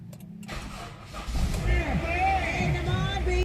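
A Honda CR-V engine cranks and catches, then settles into a steady close idle lasting a few seconds.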